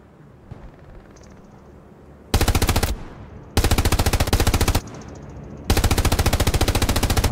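Machine gun fire in a first-person shooter video game comes in three long, loud, rapid automatic bursts separated by short pauses, close and dominant, with no voices.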